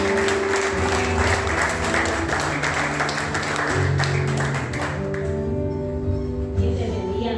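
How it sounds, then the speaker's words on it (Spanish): Applause from a church congregation welcoming a female preacher, a dense clapping wash that fades toward the end while sustained music tones ring underneath. "Vamos a darle un fuerte aplauso."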